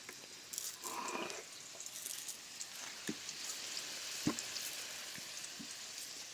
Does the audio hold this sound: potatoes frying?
yes